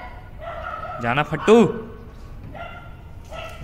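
Nearby dogs bark at a pet dog in a stadium area, a few sharp barks and yelps that come and go over about three seconds while people talk.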